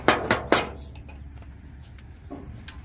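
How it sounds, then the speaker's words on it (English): A socket is swapped on a wrench while spark plugs are being removed. Three quick metallic clinks come close together at the start, then a faint rattle and a few soft taps. "Let's switch the socket this time."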